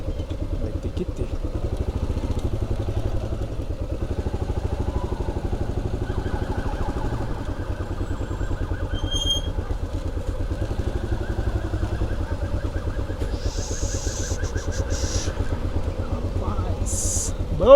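A motorcycle engine idles steadily at a street corner on a road lined with motorcycle shops, its low, even chug running unbroken for the whole stretch with a faint higher clatter on top.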